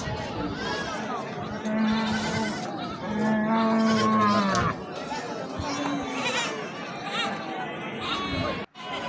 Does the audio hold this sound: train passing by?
no